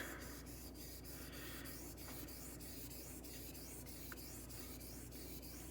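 A razor is stroked back and forth across a sharpening stone in a quiet, regular rhythm of soft scraping passes, close and faint, with a small knock at the very end.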